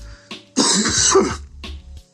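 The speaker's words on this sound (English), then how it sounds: "you hear me coughing" A man coughs and clears his throat in a morning fit after smoking. One long, rough, close burst follows a short hack, with a quieter cough trailing off at the end. No talking.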